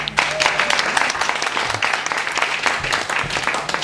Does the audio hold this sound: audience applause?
yes